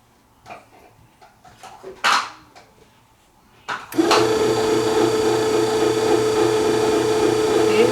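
A Wolfgang Puck 2 lb 14-function bread maker on its quick cycle gives a few soft clunks and clicks, then its motor kicks in with a steady, loud whirring hum as it mixes dough.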